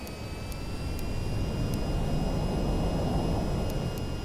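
Jet engine throttling up in the flight game VTOL VR, a loud continuous roar that swells steadily with a faint high whine above it and a few soft ticks from the cockpit.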